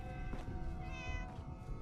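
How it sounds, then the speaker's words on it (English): A cat meows in the Fallout 4 video game, a steady, fairly clear call with rising and falling tonal harmonics over low rumbling background noise, and no talk over it. "There's a cat. Yeah, there it is."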